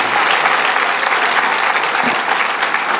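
A church congregation claps steadily and energetically during a sermon, a dense, continuous wash of applause that holds at an even level throughout.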